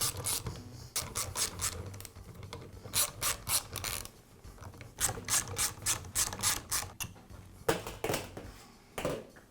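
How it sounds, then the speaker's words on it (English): The cap comes off a Bostitch roofing nail gun with bursts of close, dry ratcheting clicks in quick repeated runs and short pauses between them. No one speaks. "I'll begin by removing the nail gun's cap."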